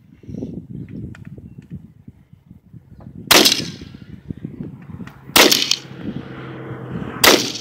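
Three loud, sharp gunshots ring out in a video game as a heavy target is fired on, spaced a couple of seconds apart with metallic ringing after each, over low rumbling game background.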